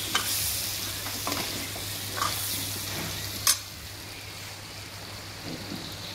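Mango pieces with panch phoron spices and turmeric fry for a pickle, giving a soft, steady sizzle with a few scraping stirs. Faint and close, with no talking.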